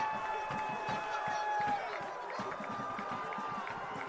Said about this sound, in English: And they're storming the pitch, Bob.